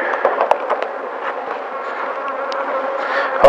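Honeybees buzz at a beehive in an apiary, a steady close insect drone with brief sharp clicks and bumps running through it.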